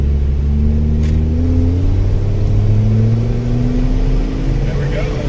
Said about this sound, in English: Oh, definitely a mod motor. It's happiest right here.